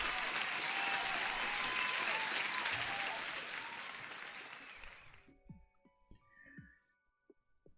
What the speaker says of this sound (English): Have an applause for you.